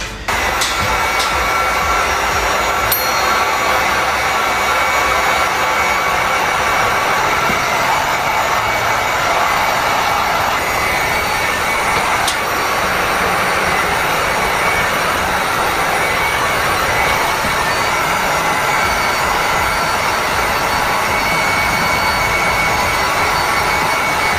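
A heat gun runs steadily and loudly throughout, drying a wet drywall patch ahead of sanding, with a constant blowing roar and a few faint clicks.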